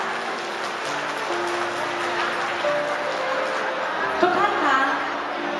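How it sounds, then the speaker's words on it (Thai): Wedding guests applaud as the families of the bride and groom are welcomed, a steady wash of clapping from a crowd, with a few chuckles and a voice faintly in the background. "ขอเสียงปรบมือต้อนรับ ทั้ง6ท่านด้วยค่ะ"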